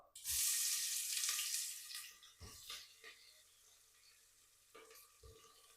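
Two medium sliced onions drop into hot oil in a pan for chicken biryani, bursting into a loud sizzle that fades into a steady frying hiss, with a few scraping stirs near the end.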